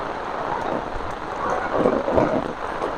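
Heavy rain pours steadily in Jaffna, a dense, unbroken wash with low rumbling swells underneath, near and loud, no voices.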